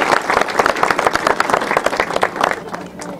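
An audience at a Cosme and Damião church festival claps together, a loud, dense patter of many hands close by that holds steady and then tapers toward the end.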